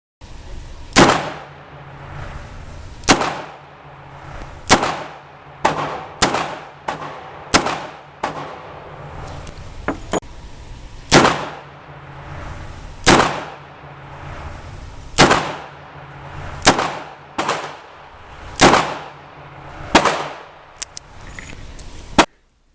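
A Smith & Wesson Model 38 revolver with a 2-inch barrel fires a long series of loud, sharp shots at an outdoor range during an accuracy test, spaced about one to two seconds apart.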